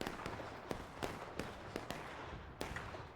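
Civil War artillery cannons fire in a battle video game, producing a rapid series of about seven sharp, booming cracks spaced under half a second apart over a rough rumbling background.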